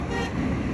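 A car horn sounding in Delhi traffic, heard from a moving bicycle amid the wash of road and engine noise, a steady toot lasting under a second.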